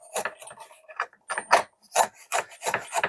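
Vevor router plane cutting wood, each pass a close, dry rasping scrape in short repeated bursts with brief pauses between strokes.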